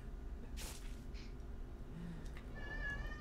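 A pet cat gives a faint, short meow near the end, low and muffled beneath quiet background noise indoors, with some soft breathy sounds earlier.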